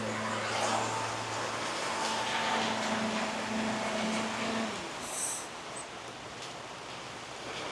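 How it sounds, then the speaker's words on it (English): Heavy rain pours down on a tent in a steady, dense hiss that fills the whole stretch, loud and close, with a low hum fading out partway through. "it's raining like mad outside"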